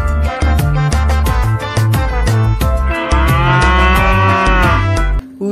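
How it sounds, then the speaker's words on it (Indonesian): Black-and-white cow in Jurassic World Evolution 2 lets out a loud, drawn-out moo over a bright, busy game music track with rhythmic percussion, the call swelling midway and fading near the end. "Wow, lihat, di sini ada seekor sapi teman-teman."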